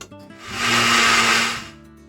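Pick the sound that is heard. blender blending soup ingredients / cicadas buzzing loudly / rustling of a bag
blender blending soup ingredients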